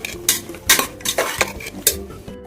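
Potatoes and mushrooms being stirred in a pan give several close scraping spatula strokes over a faint background sizzle, irregular and fairly loud, with no talking.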